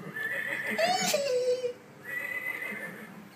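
A horse lets out a single loud, close whinny that rises and then trails off, followed by a quieter second call, with no talking.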